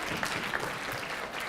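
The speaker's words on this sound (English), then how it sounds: "Give a round of applause for the..." Audience applause at a motivational talk, a short wash of many hands clapping that stays continuous and moderately loud from start to end.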